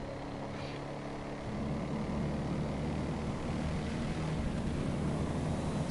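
A turbocharged car engine in GTA drones steadily, then swells a little louder partway through as the revs climb, a continuous mid-distance roar with no speech.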